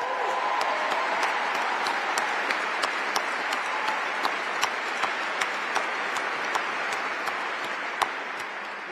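An audience applauds steadily throughout at an Air Force change-of-responsibility ceremony, a dense, even wash of many hands with a few sharper individual claps standing out near the front.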